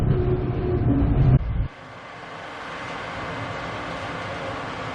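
A passenger train in Queensland rumbles steadily along the track, loud and close, with a sudden drop to a quieter, smoother running hum partway through, heard from the rear of the train near a bridge.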